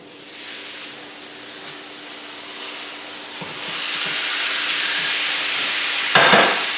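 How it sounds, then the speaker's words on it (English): A rib eye steak sizzles in a skillet with herbs, a steady broadband hiss that grows louder midway, with a brief clatter near the end and no speech. "I'm going to add the steak back"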